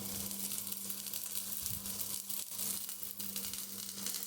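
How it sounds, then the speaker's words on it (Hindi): Chopped cabbage, carrots, beans and capsicum hiss in hot oil in a pan for momo filling, a steady loud sizzle with slight surges as more pieces go in. "अब इसमें एक एक करके सभी कटी हुई सब्जियां डालेंगे।"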